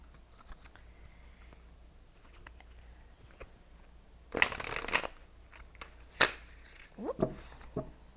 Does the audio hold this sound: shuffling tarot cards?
yes